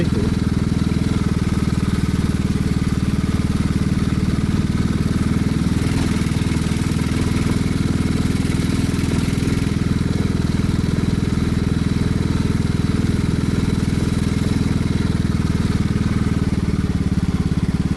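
A Royal Enfield Classic 350 motorcycle rides along a country road, its single-cylinder engine thrumming in a loud, steady drone close by with only slight rises in revs and no talking.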